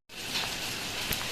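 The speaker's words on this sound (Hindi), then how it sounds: "बारिश हो रही है आज तो हमारे इधर पूरे दिन बारिश हुई है, इतनी ज़्यादा बारिश थी।" Heavy rain pours outside on a rainy day, an even hiss that cuts in abruptly and continues steadily at moderate loudness, with no voices.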